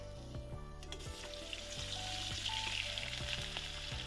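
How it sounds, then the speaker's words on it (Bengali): Fish, with its roe, frying in a pan: a steady, close sizzle and crackle of hot oil that runs without a break, with no talk. "তো ফাইনালি এই দেখো আমি মাছটা ভাজা করে নিচ্ছি।"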